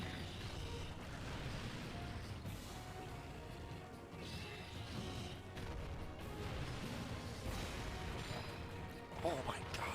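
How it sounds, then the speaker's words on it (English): Slime explosions from the video game Monster Hunter 4 Ultimate, a dense run of crashing, booming blasts layered over continuous game noise, with a sharper burst near the end. "those slime explosions are so bad"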